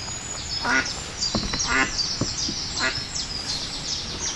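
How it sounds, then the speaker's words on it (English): An adult female mallard duck with her young quacks outdoors in a series of short, raspy calls spaced irregularly, heard fairly near over steady background noise. "She's quacking."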